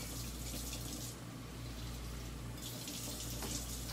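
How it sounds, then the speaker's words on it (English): Water runs from a tap and is poured onto breadcrumbs for meatballs in a tiny kitchen, a steady close splashing stream with no talk over it. "So you put a little bit of water on them"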